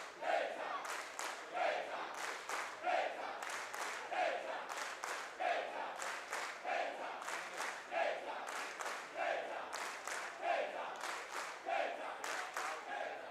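A college baseball crowd at Florida State, during a game against UNF, makes a loud, rhythmic chant with clapping. The bursts repeat about once a second and fill the whole clip.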